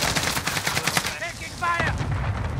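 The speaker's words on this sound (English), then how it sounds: "Taking fire!" Rapid automatic gunfire in Call of Duty Warzone, bursts of sharp shots fired in quick succession, loud and close, with a brief lull and a short voice cue partway through.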